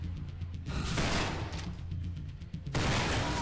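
Shotgun blasts aimed at turrets in the game GARAGE: Bad Trip, a few loud, close, booming shots with rough crackling tails, no talk over them.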